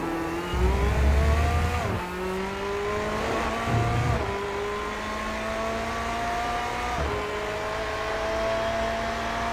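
Race car in the iRacing sim at Monza downshifting to second: a loud, steady engine drone drops in pitch with sharp rev blips at each gear change, then climbs again, continuous and close with no voices.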